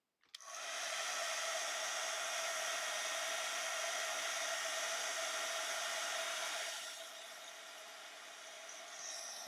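A crafting heat tool blows hot air with a loud, steady hiss that starts abruptly and holds constant, then drops to a slightly softer roar near the end.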